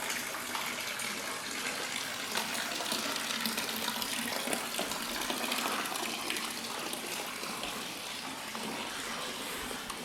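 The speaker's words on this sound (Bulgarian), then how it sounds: "Навсякъде има такива чешмички." Water runs continuously from a small village fountain in Lourmarin, a close, steady splashing gush that fills the whole clip, with no voices.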